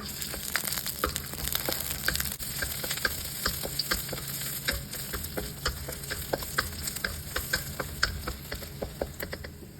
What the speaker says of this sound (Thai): ร็จแล้วก็ใส่กระเทียมไปผัดให้หอมนะคะ